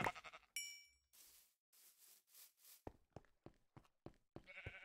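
Sheep in Minecraft bleat several times in short bursts, close and clear, broken up by quick clicking game sounds and dings.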